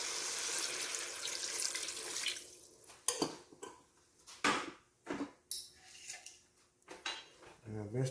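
Vegetable stock is poured into a cooking pot in a kitchen, a rushing liquid splash at the start followed by scattered clinks of utensils and pans.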